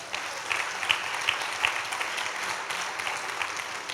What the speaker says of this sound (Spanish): Denle un aplauso al Señor en esta hora.